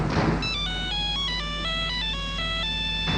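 An electronic telephone ringtone plays a quick stepped melody of bright tones for an incoming international call, steady and clear over a low background hum.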